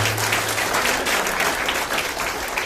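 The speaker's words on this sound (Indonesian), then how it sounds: "Tepuk tangan dong buat Prudential" Audience applause for Prudential at a motivational insurance presentation, a steady, loud burst of many hands clapping throughout, with a brief low hum at the start and no talk.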